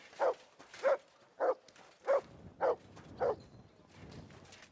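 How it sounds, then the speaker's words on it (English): A dog barks six times in a steady rhythm in the medieval game Kingdom Come Deliverance 2, with clear, fairly close woofs separated by short pauses and a quiet tail after. "Good dog, Matt."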